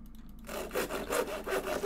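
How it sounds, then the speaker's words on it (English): Sawing from torch crafting in a modded video game: a steady back-and-forth rasp of several quick strokes, clear and alone after a brief quiet start. "I like how it has the sawing sound, even though it's just torches I'm making."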